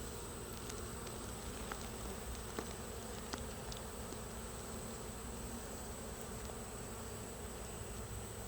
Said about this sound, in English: You see how many bees is in this thing.